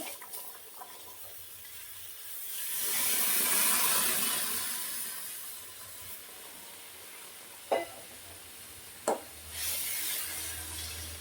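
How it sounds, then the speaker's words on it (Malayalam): Hot water is poured into a pan of sautéed vegetables for upma, giving a swelling splash and hiss that fades. Quieter kitchen noise and a couple of sharp clicks follow. "ചൂടാക്കിയ വെള്ളമാണ് ഇതിങ്ങോട്ട് ഒഴിച്ച് കൊടുക്കാം"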